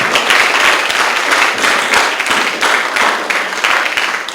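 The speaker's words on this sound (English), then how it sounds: "a big round of applause before we get into this one" An audience at a 2011 world congress bursts into loud, dense applause, a sustained roar of many hands clapping at once that swells in places and holds steady throughout.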